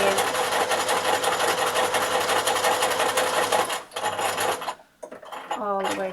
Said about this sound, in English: you drop your needle into it, do a couple of stitches forwards and backwards